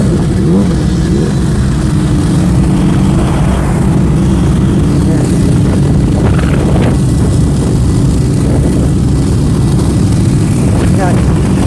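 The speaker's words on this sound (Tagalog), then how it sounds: "Traffic yan guys." Dense road traffic near a campsite in Onchan on the Isle of Man makes a constant low engine rumble and hum, loud and unbroken, with passing vehicles swelling slightly.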